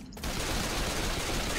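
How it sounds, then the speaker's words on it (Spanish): Rapid automatic gunfire while shooting zombies in Left 4 Dead 2, a dense, loud burst of continuous shots after a brief quiet start. "Veo más cuando disparo"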